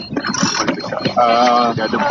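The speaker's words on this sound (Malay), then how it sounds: "dah dikepung oleh 4 buah bot, satu kapal dan 3 bot sedang menuju" Boats closing in at sea, one ship and three smaller craft, give a steady engine drone with a sustained tonal whine rising in the second half, mixed with wind and some voices.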